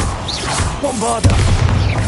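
A Bombarda spell explosion in Hogwarts Legacy bursts out partway through as a loud, booming blast with a low rumble. It rolls on after game sounds and faint voice-like tones.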